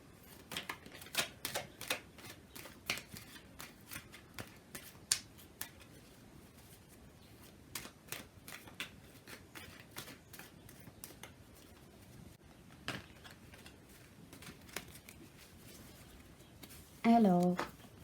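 Tarot-style cards are shuffled by hand for a reading, giving soft irregular papery flicks and taps up close, with quiet background noise between them.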